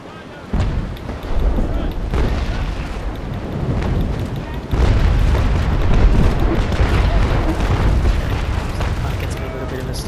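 A sailing warship's cannon broadside in the Naval Action video game, a rolling run of deep booms and rumbling blasts, loud and sustained, swelling again midway, with a voice talking faintly underneath.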